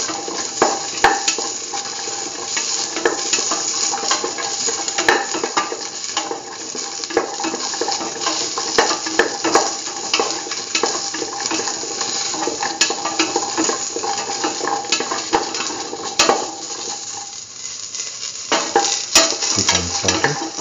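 Green tomato pieces with salt and a curry mixture sautéing in a pan for a coconut dip, a steady broadband sizzle with frequent spoon-stirring scrapes and clinks throughout, loud and close, no talking.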